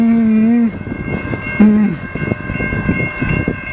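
Norfolk Southern mixed freight train at a railroad crossing in Wyandotte, Michigan, loud and close: a steady horn blast opens, breaks off, then sounds again briefly over the rumble and clatter of passing cars.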